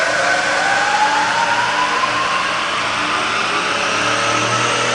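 A Bridgeport milling machine spindle winds up through its speed range toward about 2,700 RPM, giving a steady loud mechanical whine that rises in pitch across the clip with no talk.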